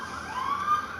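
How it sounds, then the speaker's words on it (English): A siren wails faintly in the distance, its tone rising briefly over a low, steady background rumble. "you can hear sirens."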